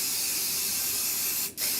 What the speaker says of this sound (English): So good spray of this on the back,